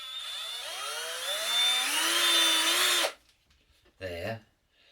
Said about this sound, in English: it's a powerful little drill